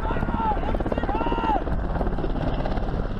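Black Hawk helicopter during a low-altitude Border Patrol pursuit, a loud steady rotor thump pulsing rapidly, close and continuous with a faint narrating voice over it.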